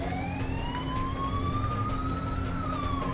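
Police sirens wail continuously during a chase in the video game Binary Domain, a rising tone over steady vehicle rumble, loud and unbroken with no speech.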